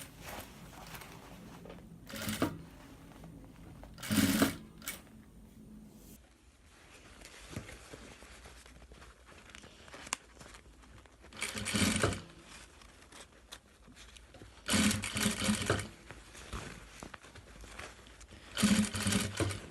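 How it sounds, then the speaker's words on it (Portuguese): A sewing machine stitches bias binding onto a round bag in several short bursts of motor whirring separated by pauses, sewn slowly through both layers, with faint handling noises between runs. "Bem devagar, para que costure as duas partes"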